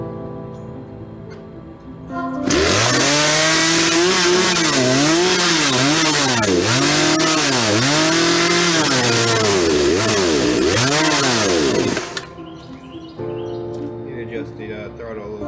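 A reassembled chainsaw starts up and runs loud and close for about ten seconds, its engine note rising and falling in repeated throttle blips before cutting off, with quieter background sounds before and after.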